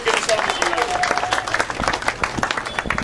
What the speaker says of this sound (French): Acclamez pour vous.